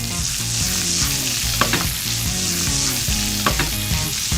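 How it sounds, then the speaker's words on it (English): Sliced leftover potatoes fry in a hot pan with a loud, steady sizzle, close up, and a couple of sharp scrapes as they are moved around. "Spread the potatoes across the pan."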